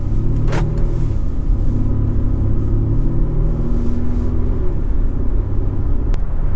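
A car engine running on ethanol-blend pump gas idles with a steady, deep, close rumble throughout, with a brief sharp noise near the start.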